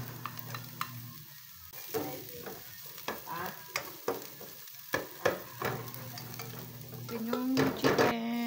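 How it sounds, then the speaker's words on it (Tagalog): Ginger sautéing in a frying pan at home, steady sizzle broken by repeated scrapes and clinks of a spatula stirring against the pan, close and fairly quiet. "Nagisa tayo ng luya."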